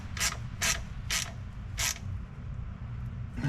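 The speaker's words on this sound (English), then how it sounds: "then we can tighten up the bolts" Ratchet wrench tightening the conductor plate bolts on a Mercedes 7G-Tronic 722.9 automatic transmission, four crisp clicking bursts in uneven rhythm, close and fairly loud over a low background hum.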